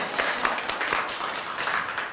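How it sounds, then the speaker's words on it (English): Church congregation at a women's kickoff service clapping, a dense patter of many hands spread across the room, steady for a couple of seconds. "We can give a hand clap for that."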